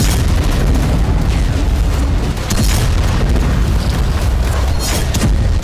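Israeli fighter jet bombing and artillery fire strike Hezbollah positions. Heavy booming blasts merge into a loud, continuous rumble, with sharper cracks breaking through at intervals.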